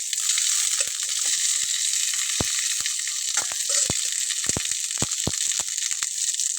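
Loud, continuous frying hiss as okra is stirred in a dry pan to cook off its surface water, with frequent sharp clicks and knocks from the spatula scraping the metal.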